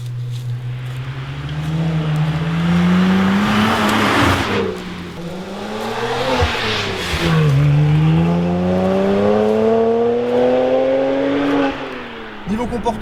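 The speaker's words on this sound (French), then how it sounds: "Et là, si je mets un peu trop de gaz, on sent la voiture qui a envie de sortir en permanence." A BMW 1M Coupé engine revs hard under acceleration from inside the car, rising and falling through several loud pulls with gear changes, while someone talks over it.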